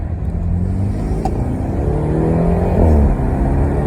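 BMW 340 with its secondary catalytic converter removed, the exhaust droning steadily and then rising in a louder rev toward the end, heard from inside or near the car with no talking.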